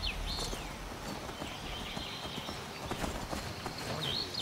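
Horse hooves clip-clop at a steady walking pace in the video game Skyrim, fairly close and moderately loud, with a few faint high chirps over a low ambient bed.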